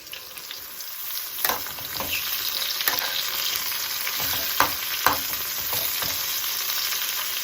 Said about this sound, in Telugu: దోసకాయ కూడా వేస్తున్నా, పచ్చి వాసన పోతే కొంచెం బాగుంటుంది